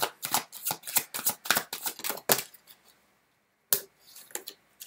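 Tarot cards shuffled by hand in rapid riffling bursts, a string of crisp papery flicks and slaps, then a pause and a few single snaps as cards are drawn; close and clear with no talk.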